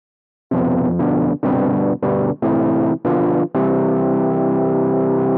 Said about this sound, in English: You can hear that like nice drive and distortion. I'm just playing some chords.